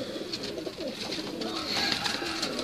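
Pigeons cooing on a rooftop, several soft, throaty coos repeating close by over a steady outdoor background hiss, with no talking.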